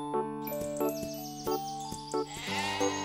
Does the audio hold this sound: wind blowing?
no